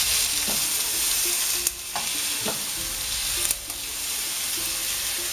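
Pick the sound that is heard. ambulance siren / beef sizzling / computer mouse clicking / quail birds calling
beef sizzling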